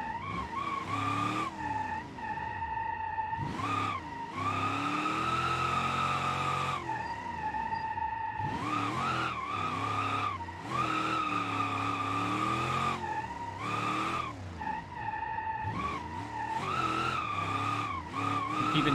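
Car tyres skid and squeal through repeated drifts in BeamNG, played on a MOZA R21 direct drive wheel, with long loud sustained screeches broken by brief gaps and steady engine drone underneath.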